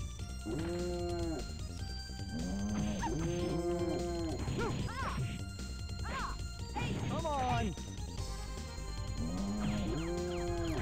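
Cow moos in the N64 fighting game Fighters Destiny, several drawn-out lowing calls with harmonic swoops repeating over a steady background of game music and combat effects, loud and close throughout.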